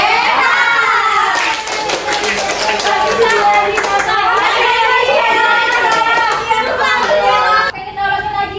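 Children in a group join a clapping rhythm game called tepuk gigi sehat, with quick bursts of hand claps in time with loud chanting voices, close and lively throughout.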